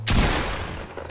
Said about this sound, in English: now shoot and reload at the same time